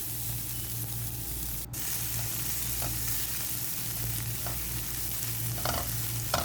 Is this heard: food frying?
yes